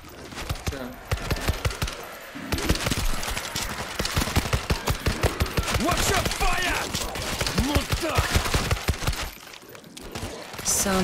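Rapid bursts of gunfire from the World War Z video game crackle through a dense, busy mix, with shots clustered in quick volleys over several seconds and a voice talking now and then.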